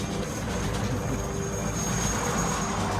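A helicopter from the film Rambo III drones steadily through a dense, loud mechanical roar that holds constant for about three seconds, with no talking over it.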